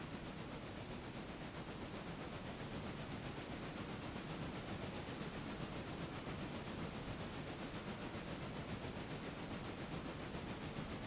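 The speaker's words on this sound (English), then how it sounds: "And this would be our road engine as we're going up the grade." A road engine locomotive in the Railroader video game climbs a steep grade of more than 3 percent, giving a continuous, even rumbling hiss at steady loudness, with no talk.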